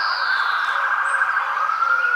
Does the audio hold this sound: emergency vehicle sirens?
yes